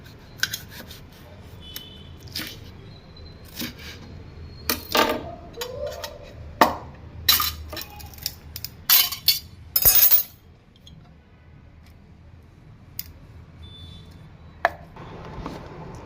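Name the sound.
knife chopping tomatoes into pieces for paste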